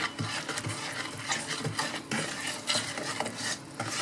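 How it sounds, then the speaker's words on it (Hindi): A spoon stirs powdered sugar into oil in a bowl for a marble cake, giving close, repeated scraping and clinking strokes against the bowl at a quick, uneven rhythm. "शुगर पाउडर डालेंगे, और इस चम्मच की मदद से अच्छे से मिक्स कर लेंगे।"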